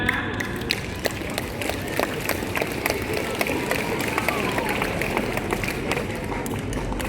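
A crowd of junior high students claps steadily at a school flag ceremony in Bandar Lampung, dense continuous clapping outdoors with some background noise.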